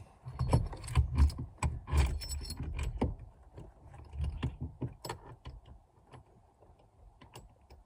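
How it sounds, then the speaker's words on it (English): A steering wheel puller is fitted on a second-generation Toyota Tacoma, giving close metallic clinks, taps and rattling jangles in an irregular run, busiest early and thinning out toward the end, with no voices. "put your steering wheel puller on"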